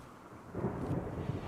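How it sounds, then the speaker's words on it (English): Thunderstorm in the RimWorld video game, a deep rolling rumble of thunder swelling after a quiet start and holding steady with rain hiss above, loud and continuous with no voices. "thunder and lightning. In the game, not in real life, unfortunately."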